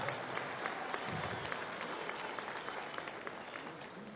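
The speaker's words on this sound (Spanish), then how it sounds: "Un aplauso a Earle Herrera, ¿vale" Applause from a political gathering's audience in Venezuela, a steady wash of clapping across the whole stretch, with a few faint voices in the crowd.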